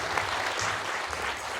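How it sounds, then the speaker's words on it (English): Audience applause at a Polish film festival Q&A in a cinema, a steady, dense wash of many hands clapping close by, sustained evenly throughout without talk. "why don't we have another warm round of applause for Jakub"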